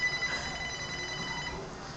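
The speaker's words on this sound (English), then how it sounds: "Hold on, it's like calling my house phone." A house phone rings in a room, its tone fairly clear at first and then fading into background noise, with no one speaking over it.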